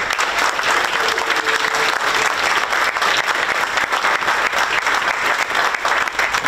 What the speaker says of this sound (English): our North Penn educators and Mrs. Kirshner, round of applause for them, please.